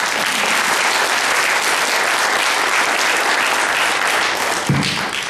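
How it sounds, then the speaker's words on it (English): Steady, dense audience applause at a creationism event, loud and continuous throughout with no break, a brief low thump near the end. "Give me applause"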